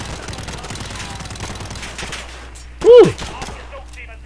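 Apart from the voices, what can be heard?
gunfire in the video game Modern Warfare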